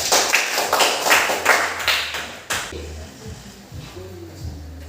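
Classroom audience clapping during a teaching lesson, a burst of rhythmic group claps for about two and a half seconds that stops abruptly, followed by quiet room noise and a low hum.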